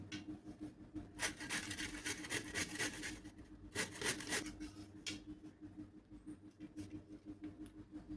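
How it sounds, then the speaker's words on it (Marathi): Cauliflower is grated by hand through the coarse holes of a metal grater onto a plate, making quiet, close, repeated rasping strokes in an uneven rhythm, with no talking. "ह्या छिद्राने आपल्याला फुलकोबी खिसून घ्यायची."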